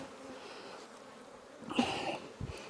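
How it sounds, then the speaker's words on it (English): Honey bees hum inside wooden hive boxes during a late-season colony check, a steady low buzz with a brief louder surge as the hive is disturbed. "These boxes are full of bees"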